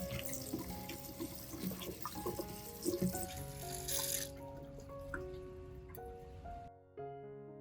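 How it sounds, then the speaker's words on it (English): Running water streams steadily from a tap, splashing over chili peppers held beneath it, with faint clinks and a brief drop-off near the end. "Wash the chili under clean running water."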